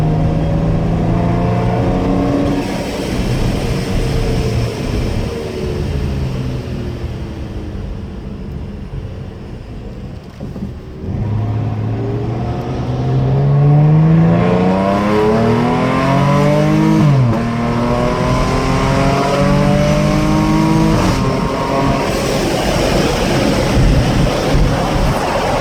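A RIPP supercharged Dodge Charger or Challenger accelerates hard, heard from a nearby car: loud rising engine and supercharger whine climbing through several gear changes, with a brief dip before another strong pull.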